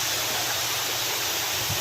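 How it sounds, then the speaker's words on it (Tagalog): Steady, loud rush of a waterfall, a dense unbroken roar of falling water filling the scene from start to finish with no voices. "Wala kang masyadong marinig na ingay, kundi ang ingay ng tubig."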